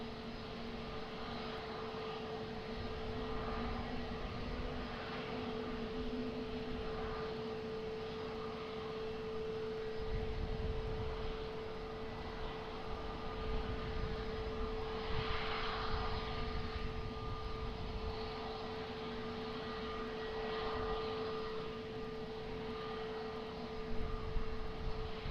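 At Lisbon Airport, a plane's engines hold a steady, distant drone through a long stretch, with a faint constant tone beneath and no other sounds standing out.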